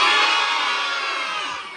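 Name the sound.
children imitating a goat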